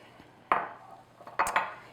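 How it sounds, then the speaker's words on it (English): Egg whites being whisked with cream of tartar in a bowl give two short bursts of metal clatter against the bowl, close and fairly quiet, each trailing off, with a near-silent gap between them. "I'm just going to whisk that to mix the cream of tartar into my whites"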